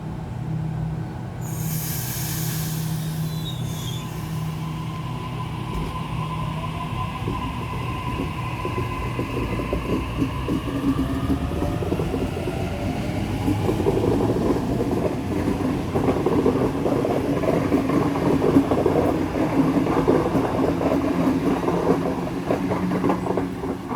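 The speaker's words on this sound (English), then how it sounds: "8:40 departing platform number 1, Central Service." Central service train pulling away from platform 1 at Normanhurst station, wheels clattering and squealing as it gathers speed, with a hiss of brakes early on and a steady rumble building nearby.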